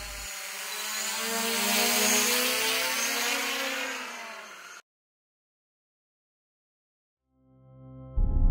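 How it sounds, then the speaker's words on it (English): A DJI Mavic drone in flight gives a steady, buzzing, propeller whine that swells and then cuts off abruptly, followed by silence and a short burst of another sound at the end. "The Mavic is extremely easy to fly even for beginners"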